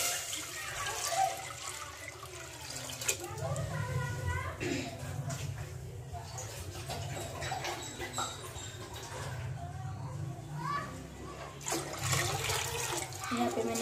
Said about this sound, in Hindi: यहाँ पे मैंने पानी ऐड किया